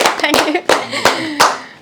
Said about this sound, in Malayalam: അത് കൈയടിക്കണം കേട്ടോ